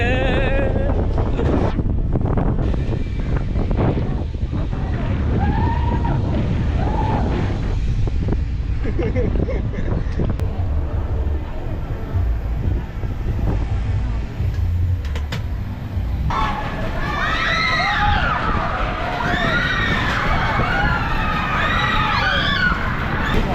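A Nilagiri Express amusement ride at MGM Dizzee World runs at speed, roaring loud and steady with wind buffeting the microphone, while riders shout and scream over the rushing noise in the later part.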